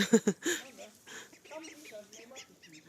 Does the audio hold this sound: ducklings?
yes